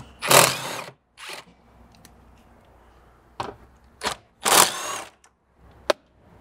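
Ratcheting and clicking bursts from loosening 10mm bolts on the rear bumper fascia of a Lexus GX470, several short mechanical bursts of varying length with quiet gaps, close and fairly loud.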